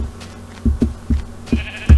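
Sheep in the Minecraft video game bleat in short, close, repeated calls, about five quick low bleats in two seconds, alone with no talk.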